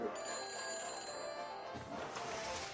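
A phone rings after a number is dialed in the Back to the Future video game, a steady electronic ringing tone that holds and then cuts off partway, followed by a softer burst of sound.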